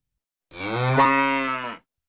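A cow gives a single long, loud moo up close, rising and falling over about a second, with silence on either side.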